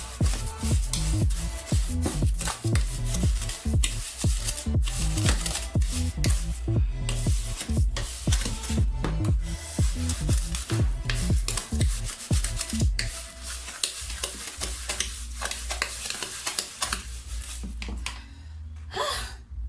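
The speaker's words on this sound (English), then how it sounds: "Just trying to dissolve the sugar particles into your oil." Sugar is stirred into oil for red velvet cake batter, giving a busy run of gritty scraping and rubbing strokes against the bowl that thin out toward the end.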